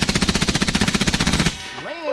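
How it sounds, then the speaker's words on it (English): Rapid automatic gunfire at an outdoor range, a fast loud burst of about twenty evenly spaced shots that stops abruptly, followed by a brief voice. "Alright, Ava, you want to shoot 12 gauges?"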